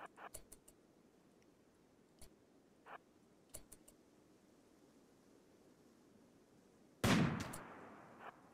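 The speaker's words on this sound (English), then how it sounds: "That submachine gun, though, I don't want to get too close to. That one has an enormous rate of fire" Gunfire in the game Rimworld, with scattered sharp single shots and then a loud dense burst of rapid fire from an enemy submachine gun that fades out, heard alone without talk.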